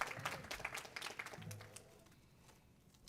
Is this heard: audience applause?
yes